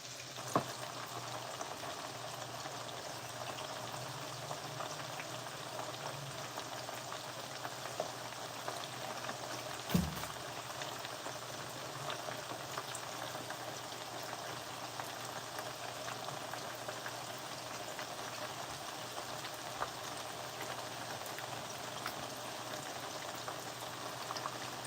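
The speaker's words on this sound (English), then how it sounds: "I'm frying this over high heat." Skewers of jerk chicken and beef fry in a pan over high heat, giving a steady, even sizzle with fine crackling throughout, one brief louder clatter partway, and no talking.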